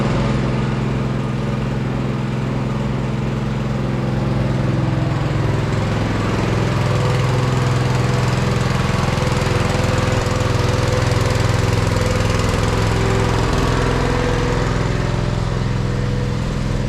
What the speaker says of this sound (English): this pump setup, which has worked phenomenal yet again. And we've had this pump for probably close to 10 years, and it always starts on 2 or 3 pulls